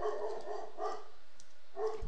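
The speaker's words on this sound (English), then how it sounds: "And my dog agrees here." A dog barks in a few short bursts, close and moderately loud, with no talking.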